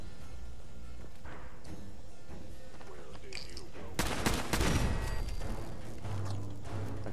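Assault rifle fire from the video game Fallout 4 rings out in a burst of rapid, loud shots mid-clip, amid game ambience and a player talking.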